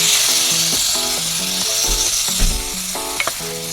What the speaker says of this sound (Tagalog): Yan guys, naihulog na natin ang ating chicken. Gisa-gisa muna natin.